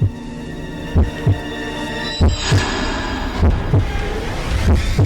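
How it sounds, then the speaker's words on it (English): Heartbeat sound effect with loud, deep thumps in an irregular pulse over a sustained low hum and droning tones. "In this room, there is an extra heartbeat."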